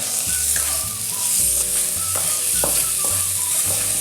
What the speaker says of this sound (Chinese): 加入2勺糖， 再翻炒一下，